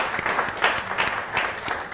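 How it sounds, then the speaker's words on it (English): An audience claps in a burst of applause after an onstage conversation about art, the clapping steady and moderately loud throughout. "Please join me in a round of applause."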